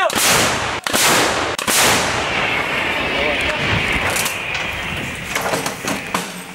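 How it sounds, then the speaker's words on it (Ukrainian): Three heavy blasts from M777 artillery guns in quick succession, loud and booming, followed by rumbling echo and distant noise, with a voice speaking faintly near the end. "Гармати! Постріл!"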